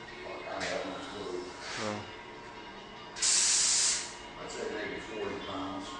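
Spray gun laying the final clear coat on a Corvette C4 at about 40 PSI, a loud steady hiss lasting under a second, with people talking before and after.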